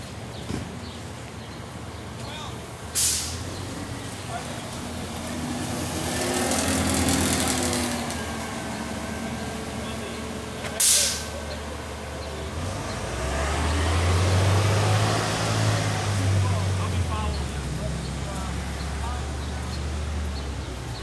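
A tow truck's engine rumbles and revs over a street scene, with two sharp hissing bursts like air brakes releasing, while people talk nearby.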